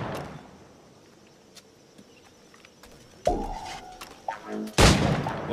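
Pistol shots at practice targets in Assassin's Creed 4 Black Flag, two loud sharp cracks separated by about a second and a half with a click and rattle between them, after a quiet stretch with faint ambient noise.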